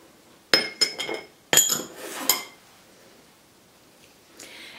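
Eggs are beaten with sugar and salt for crepe batter, giving a few quick bursts of bright clinking against a bowl, then near silence with a faint scrape at the end.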